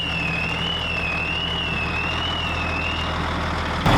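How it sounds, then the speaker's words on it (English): A smart car alarm at a campsite sounds a steady warbling electronic tone that wavers slowly up and down, loud and close over a low engine-like hum, then cuts off abruptly near the end. "That was the smart car alarm."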